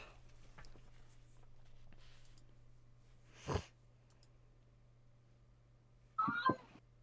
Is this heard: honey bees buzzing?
no